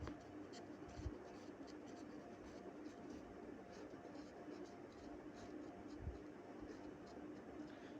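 A pen scratches softly across paper while solving math exercises, with faint intermittent strokes under quiet background noise.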